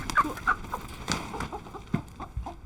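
Chickens clucking in short, scattered bursts, fairly close, with soft farmyard background noise between the calls.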